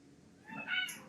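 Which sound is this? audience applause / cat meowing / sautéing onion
cat meowing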